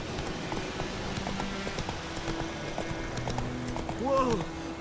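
Hoofbeats of Roach, Geralt's horse in The Witcher 3, clip-clopping at a run in rapid steady rhythm, joined near the end by a short whinny, with game voices and ambience mixed around.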